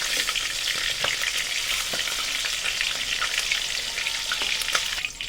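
Chicken pieces fry in oil over a high flame, giving a continuous bright sizzle with scattered crackles and occasional stirring scrapes, close and fairly loud.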